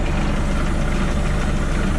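A Tartan sailboat's inboard engine idles steadily during winterization, a constant low rumbling drone with even texture throughout, close and loud, with no voices.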